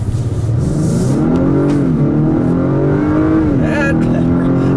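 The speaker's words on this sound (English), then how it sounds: "I'll leave you with an acceleration here." A 2019 Acura RDX accelerates hard, its engine note climbing steadily through the rev range with a shift partway through, loud and close from inside the cabin.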